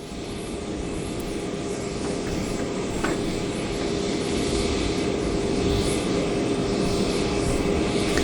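A commercial airliner sits at an Indonesian airport during the arrival of the papal delegation, its engines giving off a steady, loud, unbroken whine and rumble.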